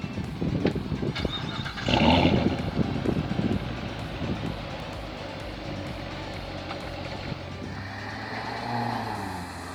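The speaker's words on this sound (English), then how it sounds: "Love the sound of that engine." A yellow C7 Corvette convertible's engine rumbles steadily for about ten seconds, with a louder surge near the two-second mark, light wind buffeting the microphone, and a low, even drone that lingers near the end.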